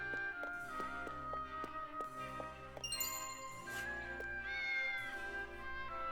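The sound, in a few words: talking cat meowing in Triangle Strategy video game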